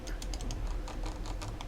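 Keys on a computer keyboard click in a quick, steady run of light taps, faint and close, with no talk over them.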